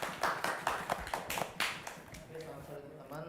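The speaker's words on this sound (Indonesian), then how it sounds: "Kita beri tepuk tangan dulu teman-teman." Brief audience applause during a studio talk show on public relations, a short burst of scattered claps that fades quickly as a voice begins speaking underneath.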